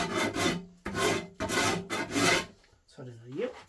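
Rasping strokes of abrasive on wood while shaping a handmade bow: four steady back-and-forth passes, close and loud, followed by a short pause and a voice speaking.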